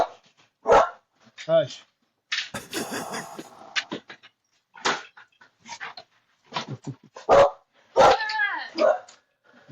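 A pet dog named Shorzy barks in loud, close bursts and yelps mixed with whimpers, while someone talks over and between the barks.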